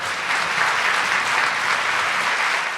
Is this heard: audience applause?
yes